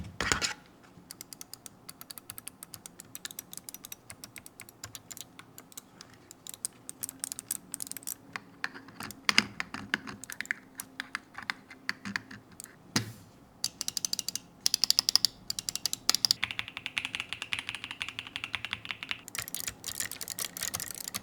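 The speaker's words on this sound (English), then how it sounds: "click an actual mechanical switch on the keyboard" Mechanical keyboard switches clicking under the fingers, a steady stream of sharp, close taps and clacks running throughout with uneven rhythm and no voices.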